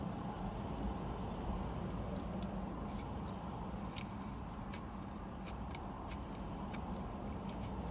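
Steady engine hum and road rumble fill a car's interior while driving, a constant, even wash of noise with no talking.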